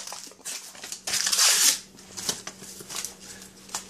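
Can of cinnamon roll dough being unwrapped, with close crinkling and tearing of the paper label, a louder rip in the middle, then smaller rustles and taps.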